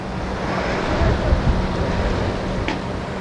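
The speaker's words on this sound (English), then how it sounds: "Ooh, windy." Wind blowing outdoors during an outdoor yoga session, a loud continuous broadband roar with gusty swells and buffeting against the microphone, steady for the whole stretch.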